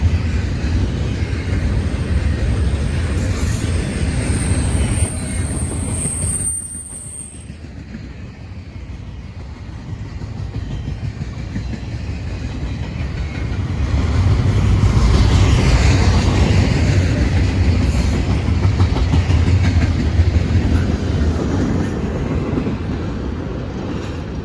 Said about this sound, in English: Symbol on that train is CSX I-169.